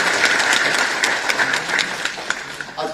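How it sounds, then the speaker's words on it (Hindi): Sustained applause from a large audience at a government event welcoming a minister, dense rapid clapping that starts full and gradually thins toward the end, with a voice faintly audible underneath. "इनका ताली बजा के स्वागत किया।"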